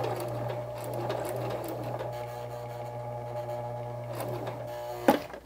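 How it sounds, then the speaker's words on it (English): A sewing machine zigzag-stitches over a fabric edge, humming steadily up close with a rapid needle rhythm, ending in a brief clack. "I'm just doing this nice zigzag over the edge to hold it down and keep it from fraying."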